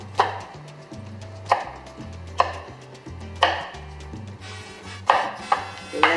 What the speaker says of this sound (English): put it together and chop them.